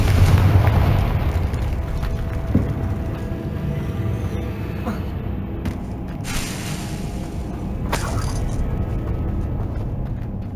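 A Confringo blasting spell detonating in Hogwarts Legacy, a loud booming explosion with a deep rumbling tail that decays slowly, followed by scattered lighter bursts and crackles.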